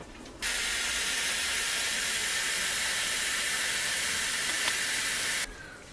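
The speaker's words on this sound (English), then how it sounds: "As we start boiling some water for the pasta." Water heating in a pot for pasta on a kitchen stove, a steady broadband hiss and faint bubbling rumble that holds evenly for about five seconds, then cuts off sharply.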